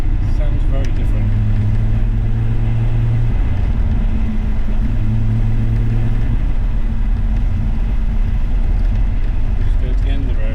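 A BMW E30 with a chip power upgrade driving along a road, its engine droning steadily and loudly with a low hum that rises and falls in pitch, a running idle that hunts while warming up.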